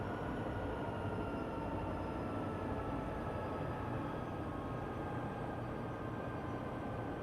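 Mile-long freight train of over 100 cars on Sherman Hill near Cheyenne in Train Sim World 2, entering a tunnel, a steady dense rumble and wheel roar with faint high whine, continuous and unbroken.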